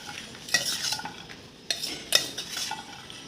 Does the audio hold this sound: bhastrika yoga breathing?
no